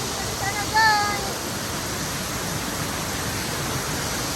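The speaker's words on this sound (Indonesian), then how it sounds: "Akhirnya kita bisa lihat guys air terjunnya di bawah." A roaring waterfall in Indonesia, a dense, steady rushing wash of falling water that stays loud and unbroken throughout, with a faint brief whistle-like tone early on.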